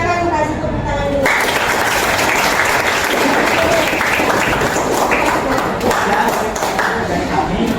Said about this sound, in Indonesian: Silakan kasih tepuk tangan dulu.